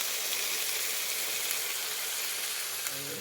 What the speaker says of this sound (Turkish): tavuklarımızın hepsini güzelce kızartalım.